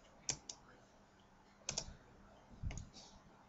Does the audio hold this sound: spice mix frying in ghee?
no